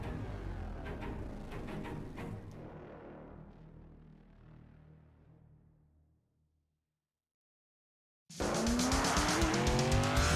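Race cars in the iRacing game roar past with squealing tires, fading away into silence before a loud burst of engine noise cuts back in near the end.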